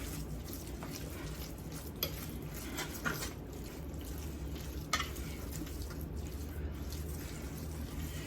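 A spoon works curry chicken salad around a bowl, producing wet, sticky squelching and scraping in an ongoing rhythm, with a few sharper clicks against the bowl, close up and without voices.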